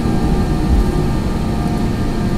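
Jet engines of an Airbus A320 with Pratt & Whitney PW1000G turbofans roar at takeoff power in a flight simulator, a loud, steady broadband rush with low rumble, continuous and alone.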